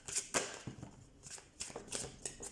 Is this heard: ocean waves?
no